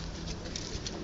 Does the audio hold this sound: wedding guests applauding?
no